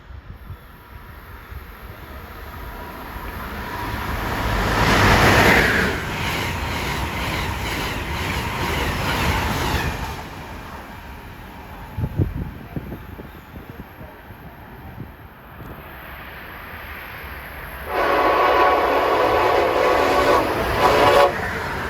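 A passenger train, train 42, passes Princeton Junction station in New Jersey, sounding loud horn blasts near the start and again toward the end, with heavy rumbling and rail clatter between; no voices.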